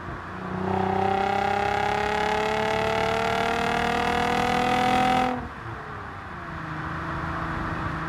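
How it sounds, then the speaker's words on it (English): A Lexus IS350 engine with automatic transmission revs up in a strong, steady climb, then drops sharply as a rev-matched downshift blips the throttle, settling into a lower, quieter drone with no talking. "This time, my rev match was perfect."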